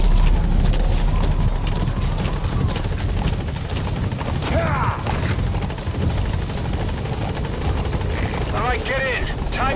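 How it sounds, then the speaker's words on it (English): A support helicopter arrives in the video game Metal Gear Solid V, its rotor thumping loud and steady throughout while voices speak over it. "Support helicopter has arrived."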